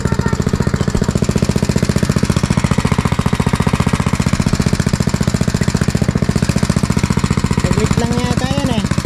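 An engine-powered machine drives a well pipe into the ground for a hand pump, pounding in a fast, even, relentless rhythm close by and loud; a person's voice briefly surfaces over it near the end.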